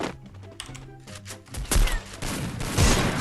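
In a shooting video game, scattered clicks and thumps lead into louder gunfire bursts that build toward the end, close and fairly loud.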